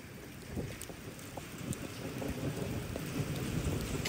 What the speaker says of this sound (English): Quarter size hail right now, Dittmer, Missouri.